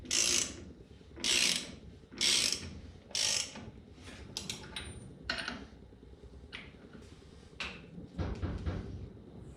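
Wheel studs on a 1962 Dodge D100 are tightened with a ratchet, giving bursts of rapid clicking close by, four strong strokes followed by shorter, quieter ratcheting and metallic rubbing.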